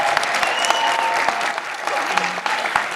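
Dense, steady applause fills a school graduation ceremony as the audience claps for staff and graduates, many hands overlapping at close range with a few sharper claps standing out.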